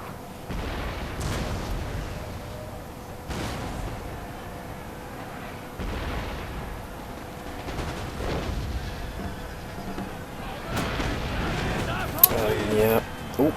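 Elite Ottoman gun units fire during a Napoleon Total War battle at the Pyramids, dull booms and scattered gunfire at moderate distance sounding repeatedly beneath someone talking.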